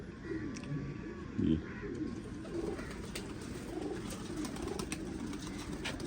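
Pigeons cooing, a soft low coo near the start amid faint ambient background, with quiet bird sounds through the rest.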